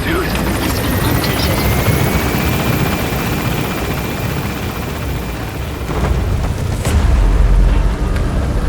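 Helicopter lifting off in the video game Metal Gear Solid V: The Phantom Pain, a loud continuous rotor roar with engine whine that swells near the end, with radio voices talking over it.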